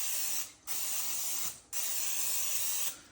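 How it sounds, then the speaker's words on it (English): Two long hissing bursts of aerosol cooking spray onto chicken tenders on a tray, close and steady, separated by short pauses, ending with a third burst starting. "I'm gonna give these a little spray here"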